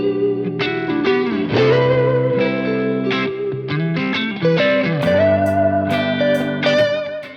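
Electric guitar played through a Tube Screamer overdrive pedal, a loud, warm, driven run of melodic single notes and bends with sustained tones, played alone without talking.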